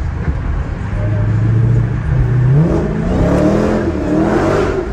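A 700-horsepower Dodge Challenger Hellcat accelerates through Las Vegas streets, its engine note rising steadily from a low drone into a higher, climbing roar, heard from inside the car with a steady, loud presence throughout.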